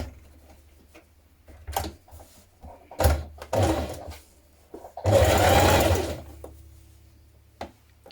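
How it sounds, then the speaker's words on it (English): A sewing machine runs in several short bursts while top stitching along either side of an opened hoodie seam, with a longer, louder run near the end, quiet pauses between. "from the right side just sew up either side of it with top stitching"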